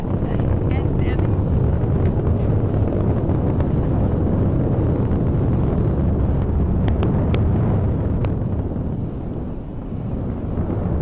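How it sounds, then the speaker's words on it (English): A SpaceX Falcon 9 rocket lifting off with the GRACE Follow-On satellites, a continuous deep, broad roar that holds loud and steady throughout, with brief crackles and a voice speaking over it. "All right, we have a liftoff, Frankie"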